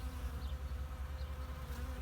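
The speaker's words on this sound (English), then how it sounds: "See the bees?" Bees buzz in a garden, a steady close hum with a pulsing low drone throughout the short stretch, no voices.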